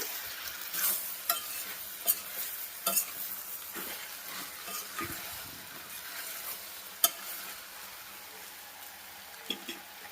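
Broad beans and potatoes cooking as a curry in a pan, giving a steady soft sizzle with scattered stirring scrapes and occasional clinks, fairly close and alone without talk.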